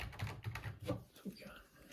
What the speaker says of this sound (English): I'll be typing them into the computer over here